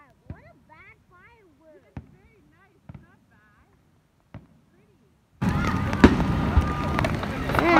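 Canada Day fireworks over Niagara Falls: a few sharp, separate pops sound amid voices and whistling, then a loud, dense barrage of crackling bursts keeps going to the end.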